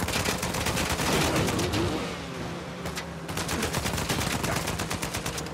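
Continuous rapid gunfire crackles in the video game Uncharted 4 as shots are aimed at car tires, with dense overlapping bursts, a slight lull midway, then renewed steady shooting.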